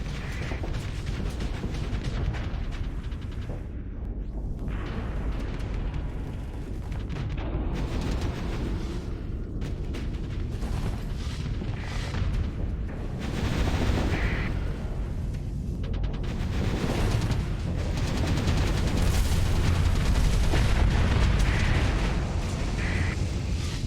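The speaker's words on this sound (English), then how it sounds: "Bombs." Bombs exploding in the Starsector space combat game, a dense continuous rumble of overlapping booms and bursts with mechanical clatter, steady and loud throughout, building toward the end.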